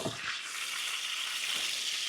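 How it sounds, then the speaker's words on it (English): Lamb shoulder sizzles steadily and close by in a hot Gozney Dome Gen 2 XL oven, a continuous bright crackling hiss with no talking. "We've got some sizzle."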